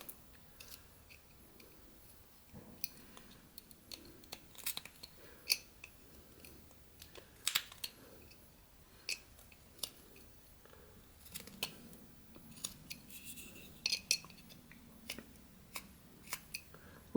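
A knife carving basswood for a small Sherlock Holmes whittled figure: crisp, irregular clicks and scrapes of the blade slicing wood, close and quiet, scattered over a steady soft background.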